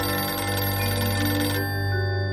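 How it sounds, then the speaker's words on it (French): A telephone rings in a house at night, a loud, continuous electronic bell tone filling the room, alone with no talking. "Le téléphone?"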